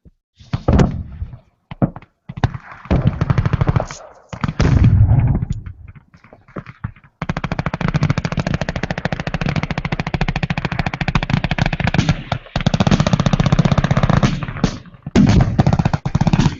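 Rapid automatic gunfire at a night shooting event, bursts of close, loud shots in long sustained strings broken by brief pauses, with people talking between bursts.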